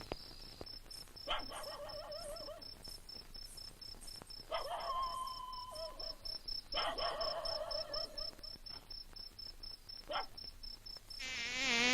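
Mosquitoes buzz in a thin, constant high whine that carries through the whole scene, joined by a few louder tonal calls and growing noisier toward the end.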